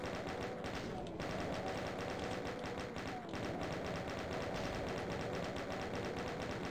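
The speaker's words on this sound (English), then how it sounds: "I guess we can just chain gun the other side" A Doom II chaingun fires in a steady, rapid, continuous rattle that holds at even loudness for several seconds, with a couple of brief dips.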